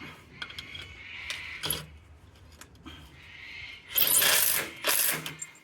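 A Bosch GDR 18V-160 impact driver drives screws into a hinge in two loud, close hammering bursts, each lasting about a second, after quieter clicks and handling noises.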